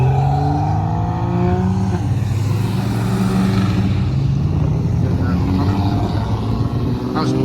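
Modified KITT car engine at a car show, revving loudly up close in rising and falling sweeps, a deep throaty roar holding steady between pulls.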